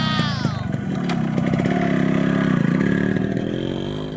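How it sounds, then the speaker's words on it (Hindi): A motorcycle engine catches after being push-started, clattering into a steady mid-pitched idle and rev up close, with whistling tones and a voice over the engine near the start. "कई बार कोशिश करने पर बाइक स्टार्ट हो जाती है।"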